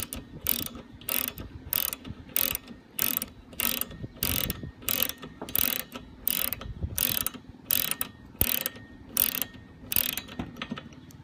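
A ratchet with a 14 mm socket loosens a strut nut on a Chrysler in quick, close clicking bursts. The bursts repeat about a dozen times in a steady back-and-forth rhythm, with no voices over them.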